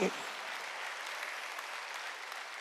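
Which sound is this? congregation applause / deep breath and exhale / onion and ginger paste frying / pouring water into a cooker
congregation applause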